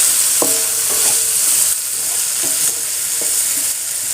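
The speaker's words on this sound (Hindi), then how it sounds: "अब मैं इसको खुले दिल से फ्राई कर सकती हूँ, तो मैं सब चला सकती हूँ इसमें" Okra sizzles loudly while frying in a pan, with a steady bright hiss broken by several scraping clinks of a spatula as it is stirred, close up and without speech.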